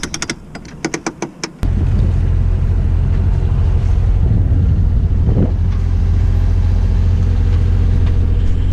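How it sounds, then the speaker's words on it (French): Wind rushes loudly over a sailboat running in a strong gust on open water, a steady roaring wash after a short run of clicks at the start, with no voices. "On fait de la voile comme on n'en a pas fait depuis longtemps"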